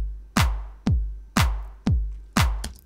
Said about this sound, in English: there's 4 kicks on the floor, but generally speaking, there's also a clap or a snare in there.